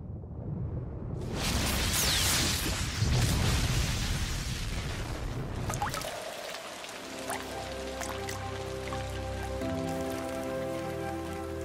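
Rain falls during a thunderstorm, first as a loud dense downpour, then thinning to lighter scattered drops and pattering after a few seconds, with no talking.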